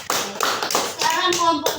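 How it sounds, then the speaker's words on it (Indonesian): A classroom of pupils gives a few quick, rhythmic claps for a group after a cooking presentation, followed by children's voices calling out together. "Tepuk tangan dulu untuk kelompok 1."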